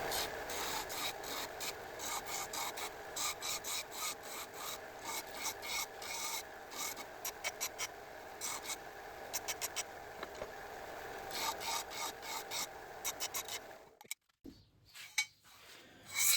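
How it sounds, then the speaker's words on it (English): An electric sander smooths wooden parts for a homemade gaming chair, giving a continuous close rasping rub in uneven strokes for about fourteen seconds before stopping, followed by a few faint knocks. "So let's go straight over to the sander."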